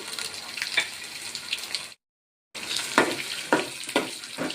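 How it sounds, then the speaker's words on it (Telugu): Green and dry chillies frying in oil in a pan on a stove, a close, steady crackling sizzle with sharper pops, broken by a short silent gap before it resumes. "స్టవ్ పైన పాన్ పెట్టుకొని పాన్లో ఆయిల్ వేసుకున్నాను. పచ్చిమిర్చి, ఎండుమిర్చి వేసుకున్నాను."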